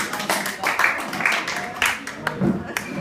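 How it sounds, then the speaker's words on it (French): Audience applause at a French debate training session, a short scattered round of clapping from a small crowd mixed with chatter and voices. "Et on peut les applaudir"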